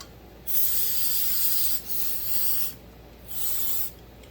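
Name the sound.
spraying cleaner on carburetor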